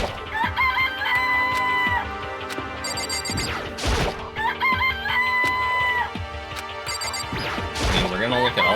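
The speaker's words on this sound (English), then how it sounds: "It's a chicken." Chickens cluck and a rooster crows in the video game Danganronpa: Trigger Happy Havoc, set against steady tonal game music with occasional crashing hits.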